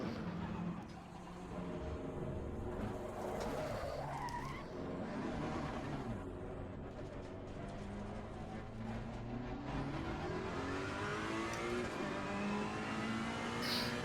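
Race car engine revving and tires squealing as the car spins out in Assetto Corsa Competizione, played in VR. The engine sound rises and falls continuously and stays loud throughout, with a faint voice now and then.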